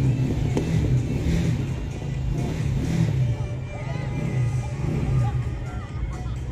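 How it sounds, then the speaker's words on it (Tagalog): A motorized tricycle engine runs and revs with a steady low rumble throughout, close by, while people talk in the background. "Ngayon nag-start si Henry ng tricycle."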